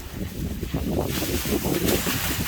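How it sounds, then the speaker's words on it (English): Steady wind buffeting the microphone, a loud low rumble with gusty swells and no voices, continuous throughout. "Pretty windy."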